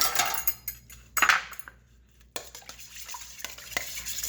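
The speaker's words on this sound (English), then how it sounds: "We're going to mix this together with a spoon." Goulash ingredients being mixed together in a pot with a spoon: a few close, uneven scrapes and clinks of metal on cookware, separated by brief quiet gaps, with no talking.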